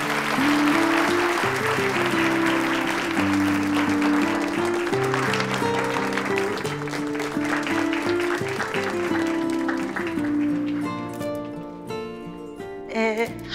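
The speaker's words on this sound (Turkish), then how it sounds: "Şimdi sahneye alkışlarınızla Nilay Ünal'ı davet ediyorum" A theater audience applauds as a guest is welcomed onto the stage, while loud music with a steady melody plays over the clapping and fades near the end.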